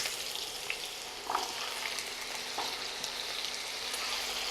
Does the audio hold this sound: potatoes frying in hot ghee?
yes